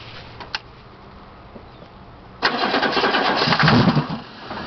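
A 6.2 diesel in a Chevy 3500 single-rear-wheel truck cranks and catches after a quiet wait, then runs loud and rough close by, the idle clattering unevenly as it settles.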